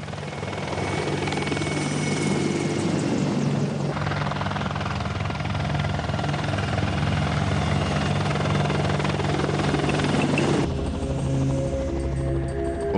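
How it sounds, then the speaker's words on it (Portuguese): Military helicopters fly low overhead, the loud rotor and engine drone steady, constant and close throughout, with a slight shift in tone near the end. "Assim perto do solo, os helicópteros conseguem se aproximar furtivamente do inimigo."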